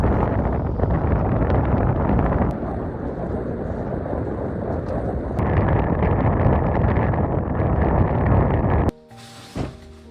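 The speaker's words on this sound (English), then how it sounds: "this was the most wind I had the entire trip" Strong wind gusts roaring steadily around a high mountain cabin at night, loud and continuous with a brief lull, then dropping to a quieter rumble near the end.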